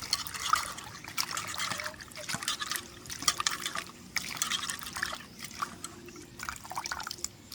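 Cauliflower florets, already coated in turmeric, are rinsed by hand in a bowl of water, giving a steady close trickle and slosh with small drips and splashes and no talking.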